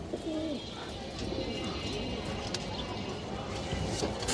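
Pigeons of fancy breeds such as Pakistani and high-flyer types coo softly in a loft, their low murmuring steady and close throughout, with no talk over them.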